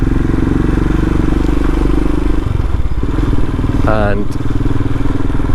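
A Royal Enfield Himalayan and a Sinnis Terrain 125 motorcycle, just fitted with new tyres, rumble loud and close at a steady idle while someone talks over them.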